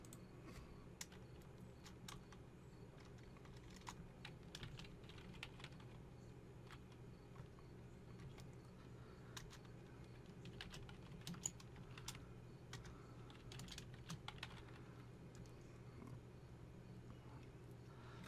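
Typing on a computer keyboard, continuous light key clicks at an uneven pace throughout, faint over a low steady background hum, no speech.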